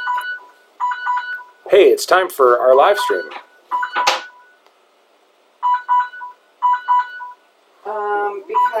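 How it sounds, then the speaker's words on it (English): Electronic alarm going off in a house, a repeating pattern of short clipped beeps in bursts, broken up by a person talking over it. "There's an alarm going off."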